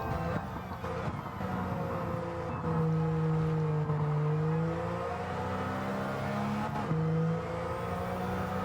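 Racing-game car engine from Gran Turismo 7, a small kei car at Autopolis circuit, droning steadily with shifting pitch as it accelerates, with another car passed along the way, loud and continuous throughout with no talking.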